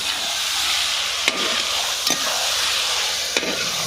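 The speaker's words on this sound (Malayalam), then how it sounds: "അതുകൂടെ നമുക്ക് വഴറ്റിയെടുക്കാം" One kilo of finely chopped tomatoes sauté in a pan for soybean olathiyathu, a steady close sizzle and hiss broken by a few sharp scraping stirs of a spoon; nobody speaks.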